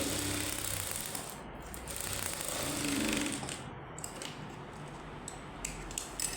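A sewing machine stitches a water bottle cover made from plastic fabric with foam insulation, a faint steady mechanical whirr running continuously at close range with no speech.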